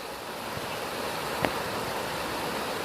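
A swollen river rushes through a flooded area as a constant broadband roar, steady and fairly close. One brief knock stands out midway.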